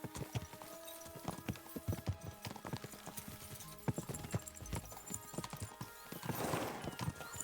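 Horse hooves in Kingdom Come Deliverance 2 pound out a steady, close clip-clop gallop throughout, with a brief whinny-like cry and a swelling rush of noise near the end.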